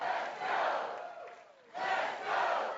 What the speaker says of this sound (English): A packed gymnasium crowd fired up by Senator Tim Scott's big announcement Monday.